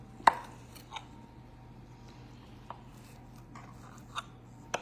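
A knife slices through Peeps marshmallow candies for a cake, with a few soft, sparse cutting taps and clicks spread apart, close and faint.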